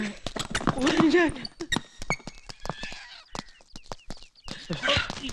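A chicken clucks in a film comedy scene, short sharp clucks mixed with people talking over them and a few thumps.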